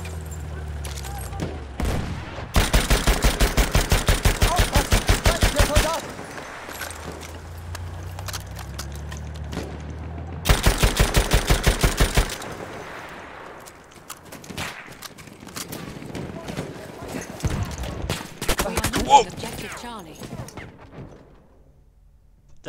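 Two long bursts of rapid automatic fire in Battlefield 1, each a few seconds of dense, evenly spaced loud shots, separated by quieter battle noise with scattered thumps and a voice.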